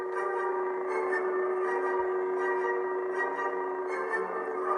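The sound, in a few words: lightsaber hum sound loop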